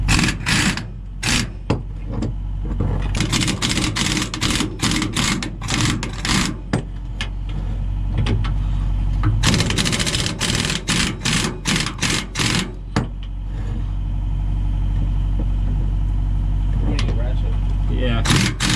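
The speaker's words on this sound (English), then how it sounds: "We're gonna pull these saddle bolts." Bolts being worked loose under a Kenworth truck at the walking-beam saddle, a run of sharp mechanical clatters and rattling bursts over a steady engine-like rumble, close and loud, with occasional speech.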